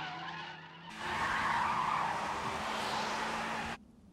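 Tires of an AE86 car in an anime race skid hard while braking into a corner, a loud sustained screech over engine noise that cuts off abruptly.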